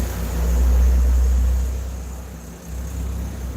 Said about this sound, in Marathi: गाड्यांचा आवाज येतो खूप आमची इथं